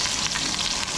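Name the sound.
onion sautéing in a pan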